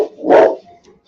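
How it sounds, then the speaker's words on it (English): A single loud, close dog bark rings out, with a faint trailing yip afterward. "That's my dog in the background."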